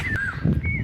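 Two thin, high whistling bird chirps, likely small birds, sound over a low rumbling background in a village on a rainy day.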